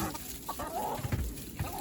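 Farm hens, a flock of eleven, cluck softly and intermittently at close range, with brief low clucks and murmurs and no talking.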